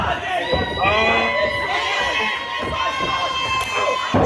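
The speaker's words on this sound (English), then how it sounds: "the crowd gets hyped for him" A wrestling show crowd cheers and shouts continuously, a dense roar of many voices with high whoops and children's yells rising and falling throughout, loud and close.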